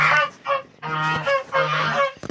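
Domestic geese honking close by, a rapid series of loud, nasal honks in uneven bursts with brief pauses between them.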